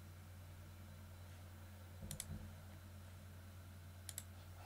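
A computer mouse clicks twice, each a quick double tick, several seconds apart against a faint, steady background hiss.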